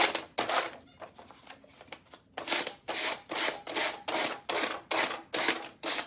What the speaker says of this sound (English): So we're just gonna sand this off.